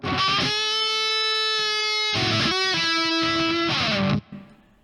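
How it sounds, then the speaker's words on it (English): Electric guitar played through a classic DS-1 distortion pedal, loud sustained distorted chords and notes ringing continuously for about four seconds before cutting off into a brief decaying tail. "classic DS1, a little more distortion"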